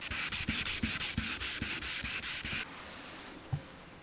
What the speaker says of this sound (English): how we're gonna sand that out is with 2000 grit on this mini block right here